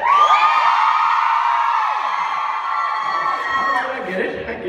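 A concert audience at a Las Vegas fan convention screams and cheers in a sustained, shrill roar of many voices, loud and close, fading slightly toward the end.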